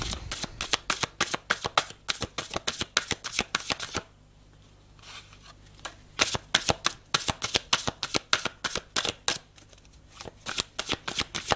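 A deck of tarot-style cards being shuffled up close, with rapid crisp riffling bursts in a steady rhythm, a pause of about two seconds midway, then more shuffling. No one speaks.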